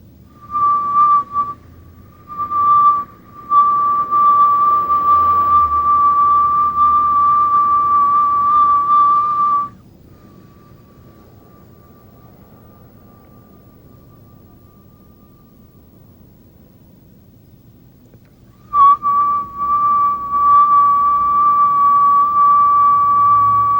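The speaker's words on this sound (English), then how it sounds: "Now we'll inhale through the mouth in a whistle and exhale through the nose, slow, deep breathing." Sustained whistling breaths drawn in through pursed lips during Kundalini yoga breathing, several long steady tones with short breaks, then a quiet pause for the nasal exhale before the whistling resumes; no talking.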